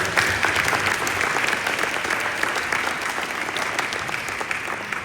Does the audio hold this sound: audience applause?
yes